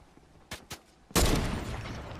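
Game gunfire in a battle royale match: two sharp shots, then a louder, sustained burst of noisy firing or an impact rumble that trails off to the end, with no talking.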